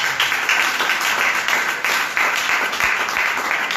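A church congregation applauding during a worship service, steady dense clapping from many hands filling the room without pause, fairly loud and close.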